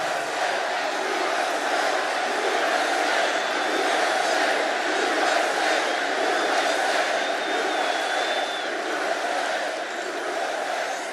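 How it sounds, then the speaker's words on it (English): A huge crowd at a Trump rally roars and cheers without a break, a dense, steady wall of voices that stays loud throughout, with occasional whistles piercing through. "What a crowd this is."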